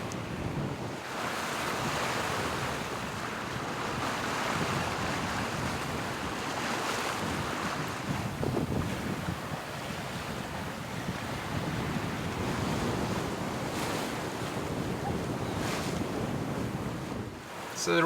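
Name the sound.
sailboat at sea in wind and waves on broad reach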